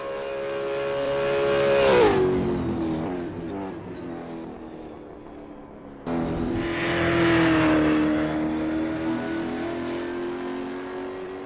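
Race cars in Assetto Corsa, V8 Supercars at Bathurst, roar loudly close by, with engines revving up and falling back and a sharp cut around the middle before the next car surges in. No talking.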